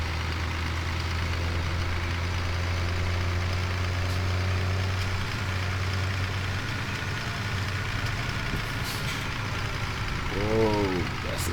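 A tractor engine idles and runs steadily during field work while baling straw, a constant low, throbbing drone close by, with faint voices in the background and a brief rising whine near the end.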